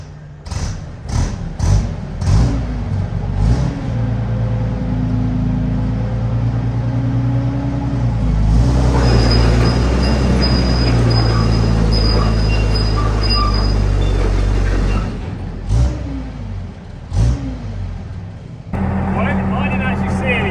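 Tank recovery vehicle hauling a 40-ton excavator as dead weight with its tracks locked, a heavy engine droning and building to a strained roar with scraping and squealing, then easing off, with people talking around it.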